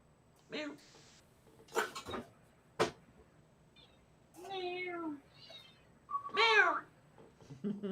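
Hungry house cats meowing while waiting to be fed, a few loud, drawn-out cries spaced among scattered clatter and shorter sounds, close to the listener in a quiet room.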